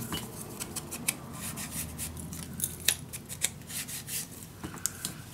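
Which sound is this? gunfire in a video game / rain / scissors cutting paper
scissors cutting paper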